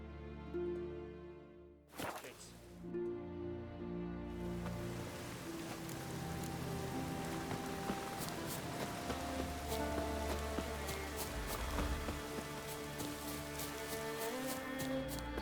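Rain falls in The Witcher 3: Wild Hunt, a steady wash of droplets pattering on surfaces after a sharp crack near the start, with scattered drips and faint tonal game music underneath.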